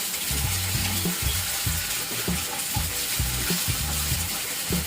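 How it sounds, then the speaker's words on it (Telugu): Ginger paste sizzles in hot oil with onions and curry leaves, a steady crackling fry broken by repeated scraping stirs of a spoon in the pan, with no talking. "వన్ టేబుల్ స్పూన్ అల్లం పేస్ట్ను వేసి పచ్చి వాసన పోయేంత వరకు వేయించుకోవాలి"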